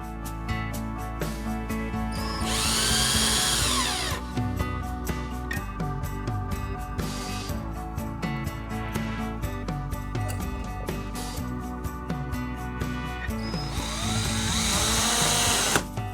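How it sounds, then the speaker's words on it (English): A power drill drives screws into scrap wood for a chick brooder, with two long whirring bursts of the motor separated by a stretch of quieter handling, clicks and shuffling close by. "Let's go ahead and get some screws and get that fastened on there."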